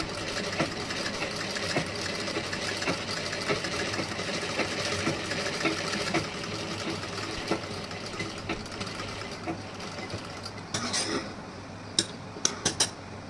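Sewing machine stitching the front of a blouse, a steady humming run of rapid needle strokes, followed near the end by a few sharp clicks and taps of handling.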